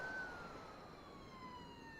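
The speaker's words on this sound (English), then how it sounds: "I believe I hear sirens now, Jack." Faint, distant emergency vehicle sirens wail with slowly sliding tones over a low rumbling background, responding to a fire after the SpaceX Ship 36 explosion during testing.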